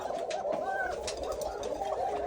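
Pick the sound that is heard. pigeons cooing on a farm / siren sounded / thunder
pigeons cooing on a farm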